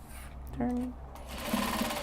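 Sewing machine stitching fabric, a short close mechanical whirr in two brief bursts, with someone talking over it.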